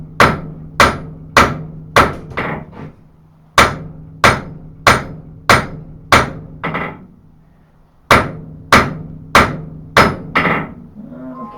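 Hammer forging a knife blade on an anvil to taper the spine and tip, loud ringing metal strikes in bursts of four to six evenly spaced blows separated by short pauses, close and without talk.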